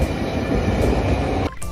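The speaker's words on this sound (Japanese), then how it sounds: "街中を路面電車が走っていました。" A tram runs through the city streets of Sapporo, its steady rumbling wheel-on-rail noise close and loud, then briefly dropping off at the end.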